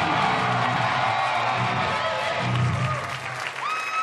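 Crowd at a metal concert claps and cheers for the supporting bands, a sustained roar of applause with whoops, while a lingering guitar tone rings through and a brief rising feedback squeal appears near the end.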